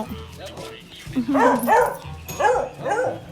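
A dog barks in a few sharp bursts, close by, while someone talks over it in Thai, pleading with it to stop.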